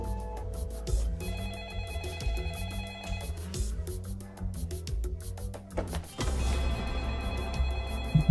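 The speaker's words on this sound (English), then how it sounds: "Do not answer the phone." A telephone rings in a tense improvised comedy scene, its repeated electronic ring loud and close, running steadily through the clip with almost no talk over it.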